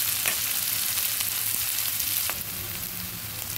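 Sliced onions frying in hot oil for a Bengali katla fish curry, a dense continuous sizzle close up with occasional spatula scrapes, no voices.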